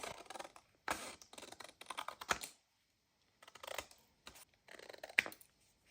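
Scissors cut vintage paper for a junk journal in crisp, close snipping bursts separated by short quiet gaps, the blades rasping through the sheet without any speech.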